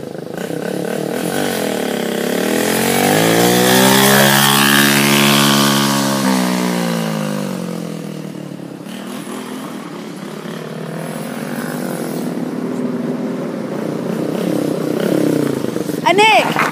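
Four-wheeler engine revving hard at full throttle, a loud close buzzing roar that climbs and falls in pitch, easing off midway then building again, with people talking over it.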